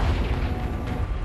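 An Incendio fire spell cast in the game Hogwarts Legacy bursts out as a short, dense rumbling whoosh with a boom-like low roar, filling the brief moment on its own.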